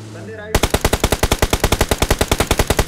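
Automatic gunfire in the mobile battle game PUBG Mobile, a loud rapid burst of about twenty evenly spaced shots firing continuously after a brief quiet moment.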